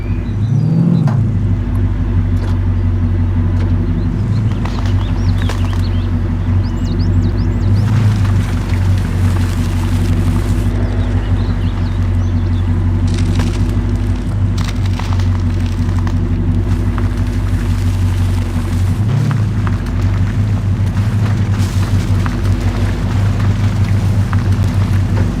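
A steady, deep off-road truck engine in the video game MudRunner rumbles throughout with continuous low tones and occasional crackles, loud and close, with no talking.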